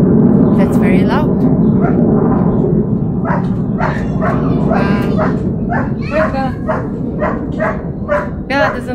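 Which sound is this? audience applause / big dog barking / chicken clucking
big dog barking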